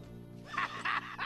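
A horse on a ranch gives a short series of whinnies, three high bursts following a low rumble, close and fairly loud with no talk over it.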